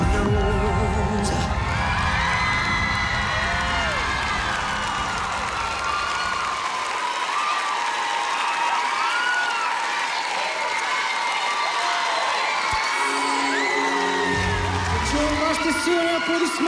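A large talent-show audience cheers and applauds loudly and steadily throughout, with whoops and shouts rising above a dense wash of clapping.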